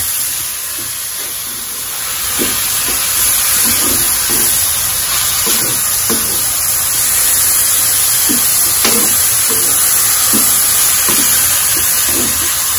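Ground beef frying in a pan for beef picadillo, a steady loud sizzling hiss with intermittent scraping knocks of a spatula as the meat is stirred, close and continuous.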